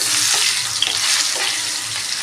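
Steady, dense sizzling of potatoes frying in hot oil with cumin seeds and turmeric, close by and continuous, with faint scraping of a spoon now and then.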